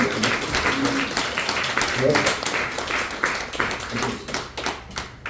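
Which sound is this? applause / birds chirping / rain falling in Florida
applause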